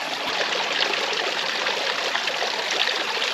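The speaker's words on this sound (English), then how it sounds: "Really neat experience here filling up our water at Shower Spring." Spring water at Shower Spring, along Buckskin Gulch and Paria Canyon, trickles and splashes steadily into a container, a constant close rushing with no pauses.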